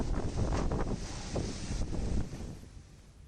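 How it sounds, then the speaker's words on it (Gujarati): Strong storm wind with heavy rain in Dang district, Gujarat, gusts in rough rumbling bursts that buffet the microphone, easing slightly toward the end, with no voices. "ધોધમાર વરસાદ અને ભારે પવન ફૂંકાવાના કારણે"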